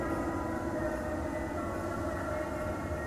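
Train waiting at a station before departure in the video game The Christmas Spirit, a steady rumbling hum with a faint tonal whine, continuous and even, with no voices.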